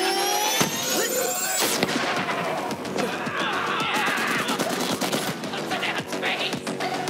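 Rapid gunfire in Borderlands 3 rattles away in dense, overlapping bursts with sharp cracks and explosions, loud and continuous with voices mixed in.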